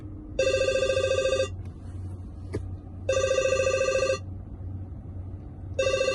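Toyota Tundra infotainment ringtone, tone 2: a bright trilling electronic bell repeating in roughly one-second bursts with gaps between, clear and close over a low cabin hum.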